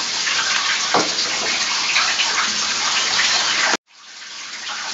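Water gushes steadily from a tap or shower while hair is washed, a close, loud continuous spray that cuts off abruptly and then resumes.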